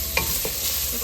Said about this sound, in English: After we get the kielbasa sauteed,